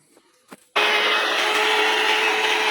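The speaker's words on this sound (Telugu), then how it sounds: "వాటిని మిక్సీ జార్లో వేసుకొని బాగా మెత్తగా ఆడించుకోవాలి" A mixer grinder whirs into sudden loud, steady action, blending onion, tomato, green chilli and grated coconut in its jar after a few faint kitchen clatters; the motor holds a constant high drone to the end.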